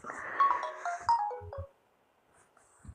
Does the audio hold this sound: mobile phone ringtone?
yes